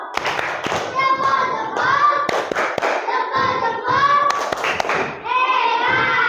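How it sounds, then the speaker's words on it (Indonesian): A school class claps in rhythm during a thumb clap chant for a student group, sharp bursts of hand claps and thumps mixed with children's chanting voices, loud and close in a classroom. "Tepuk jempol untuk kelompok 1."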